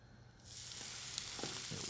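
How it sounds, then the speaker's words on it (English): Beef tenderloin hits hot olive oil and a bright sizzle bursts in after a brief quiet start, then holds as a steady, close hiss with a few faint crackles. "hot enough so that you're gonna get a nice sear on the beef tenderloin"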